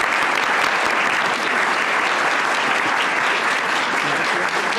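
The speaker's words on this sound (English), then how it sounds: "So here's a round of applause for them." Sustained audience applause fills a school board meeting room, dense and steady throughout without a break, with no speech on top.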